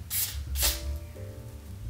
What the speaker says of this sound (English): take the same wig grip spray and apply that to the lace here